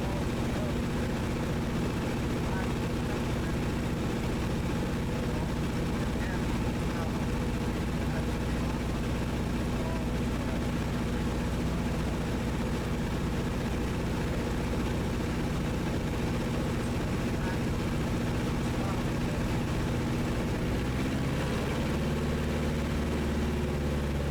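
A Luscombe light propeller airplane engine hums steadily in flight during slow-flight and stall practice, with a constant low rumble, no voices heard.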